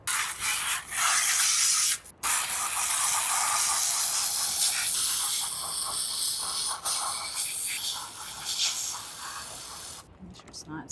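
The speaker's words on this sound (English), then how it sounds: "Try pressure washing it first." Pressure washer spraying water onto an algae-clogged garden part, a steady loud hiss with brief cuts where the spray stops and restarts.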